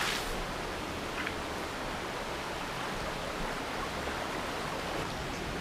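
River water rushing steadily over rocks, a continuous broadband roar that stays loud and even throughout, with no voices present.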